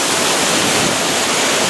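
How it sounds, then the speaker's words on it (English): A waterfall at Spences Bridge roars as a dense, steady, loud wash of falling water, unbroken and close enough to feel the spray, with no other sounds. "I love waterfalls."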